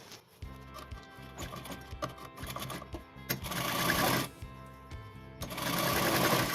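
Sewing machine stitching pleats into a frock made of net fabric, running in quick bursts of rapid, even needle rattle with brief pauses between, growing louder and more continuous toward the end.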